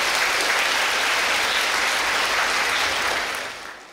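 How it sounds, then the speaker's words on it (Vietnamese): A large audience at a Buddhist nun's talk gives a thick, continuous round of applause, loud and even throughout before tapering off at the end. "Cho một tràng pháo tay"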